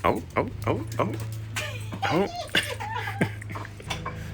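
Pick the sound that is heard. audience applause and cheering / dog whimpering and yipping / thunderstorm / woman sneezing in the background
dog whimpering and yipping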